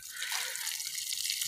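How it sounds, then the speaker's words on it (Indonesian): Water pours onto small avocado plants in a shady garden, a steady hissing splash at moderate level with no talk. "Saya untuk menyiram tanaman alpukat yang masih kecil."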